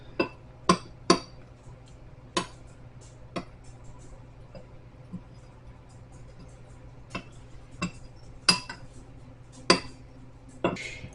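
A spoon taps and clinks against a bowl while Fry's cocoa brownie batter is stirred, giving sharp irregular knocks spaced a second or so apart over a quiet background hum.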